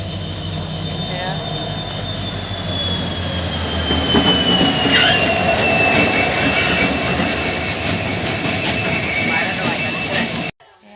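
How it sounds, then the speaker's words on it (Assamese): A train rolling in at Namrup station in Assam, with steady loud rumble of wagons and high, drawn-out wheel squeal that rises and falls, continuous for about ten seconds before cutting off, with no talk. "এয়া এতিয়া ট্ৰেইন পালেহি"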